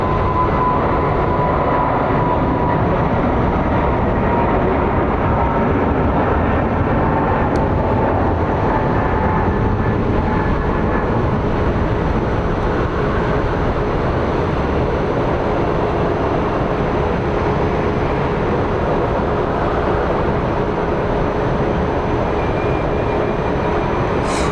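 A Frontier Airlines airliner taxis at Phoenix Sky Harbor with a steady, loud, broadband engine rumble and hiss that holds evenly throughout with no voices.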